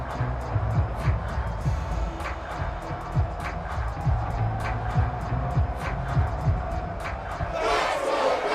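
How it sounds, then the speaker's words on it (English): A stadium crowd in the Madden NFL video game, during a Bengals vs. Bears matchup, claps in a steady rhythm on the sidelines under a continuous roar of crowd noise. "That's why you hear that clapping on the sidelines, right?"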